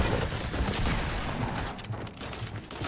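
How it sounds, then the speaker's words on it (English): Gunfire in the video game Fortnite: a dense, rapid fusillade of shots crackling continuously for about three seconds, fairly loud, with game sounds around it and no talk. "Who the fuck is shooting PewDiePie?"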